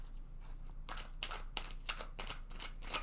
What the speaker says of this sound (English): I'm going to go ahead and shuffle this deck several times now